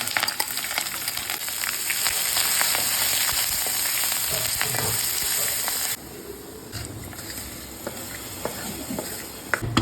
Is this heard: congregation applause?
no